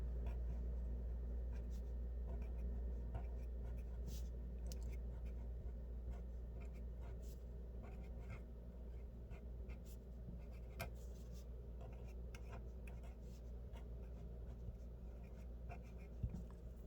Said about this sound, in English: So now I'm going to write the answer to my question.